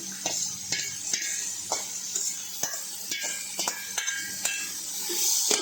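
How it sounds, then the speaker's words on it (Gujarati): Onions sautéing with turmeric in a pan for masoor (red lentil) pulao give a steady close sizzle, with repeated scrapes and clinks of a spoon stirring against the pot and no talk. "હવે તેને શેકી લેવાનું છે।"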